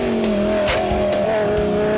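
GT race cars battle side by side into a corner, engines droning and shifting pitch as they run close together, one passing loudly near the end.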